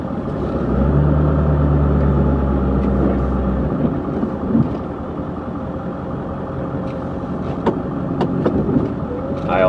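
A snow plow truck in a parking lot rumbles nearby with a deep engine drone, briefly heavier at first and then steadier, with scraping clanks and knocks scattered over it.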